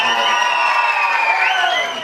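An outdoor crowd at a Nepali political gathering lets out a sustained loud cheer and whooping, with shouting voices blended into a dense roar that fades slightly at the end.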